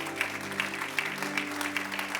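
Congregation applauding in a Christian church service, a steady wash of many hands clapping with regular rhythmic accents, moderately distant over a low sustained organ or keyboard tone.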